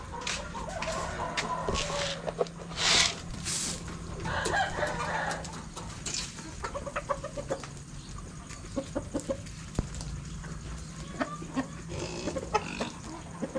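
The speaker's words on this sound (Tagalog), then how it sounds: "Manok everywhere." Chickens cluck on a small farm with other livestock nearby, scattered clucks and squawks rising over a low outdoor background, fairly close.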